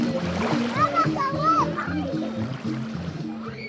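Children play and splash in the water along the Lake Pontchartrain waterfront, squirting water guns, with young voices chattering and small splashes close by.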